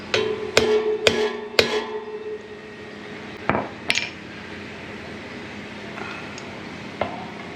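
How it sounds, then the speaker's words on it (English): A hammer strikes to seat a Timken wheel bearing race on a Harley-Davidson Softail in a garage, three sharp ringing metallic whacks in quick succession, then a few scattered lighter taps and clinks. "Give it a few whacks."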